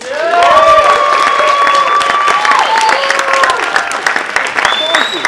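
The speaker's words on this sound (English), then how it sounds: "Give him a round of applause." An audience at a full stack web development demo day applauds as the next presenting team takes the stage. Steady, fairly loud clapping fills the room for about five seconds, with sustained tonal voices or whoops riding over it.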